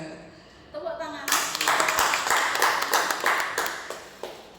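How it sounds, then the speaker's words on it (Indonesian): A small audience at a teachers' positive-culture training session breaks into brisk, rhythmic clapping after a short spoken line, the claps close and steady for several seconds. "Tepuk tangan."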